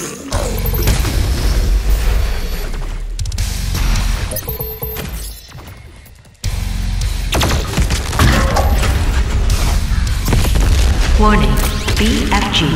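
Heavy booms and shattering crashes from the BFG 10,000 firing in DOOM Eternal, loud and sustained, with a brief quieter lull before an abrupt return to full intensity.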